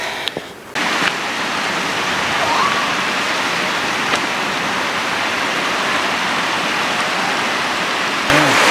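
Zapata Falls roars in a steady, broadband rush of falling water heard up close, with a brief shift near the start and a faint bump near the end.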